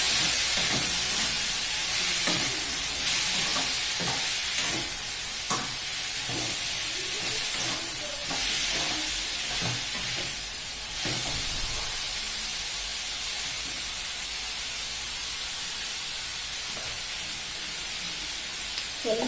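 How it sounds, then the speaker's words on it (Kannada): Vegetable palya stir-frying in a pan with turmeric, a steady close sizzling hiss that holds throughout, with faint scraping taps in the first half. "ಪಲ್ಯ ಮಾಡ್ಕೊಳ್ಳೋಣ ಅಂತ ಪಲ್ಯ ಮಾಡ್ತಾ ಇದ್ದೀವಿ"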